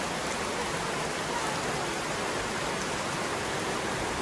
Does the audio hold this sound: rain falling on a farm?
yes